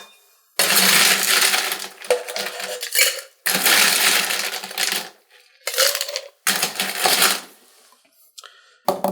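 Ice cubes tumble into a cocktail shaker for an orange blossom martini, several loud rattling bursts of clattering ice on metal separated by brief pauses, close and with no talking.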